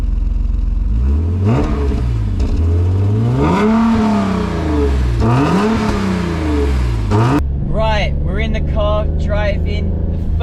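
A BMW E34 M5 engine revs up through repeated rising pulls with gear-change drops while the car is driven, loud and close from inside the cabin, then settles into a steadier drone near the end.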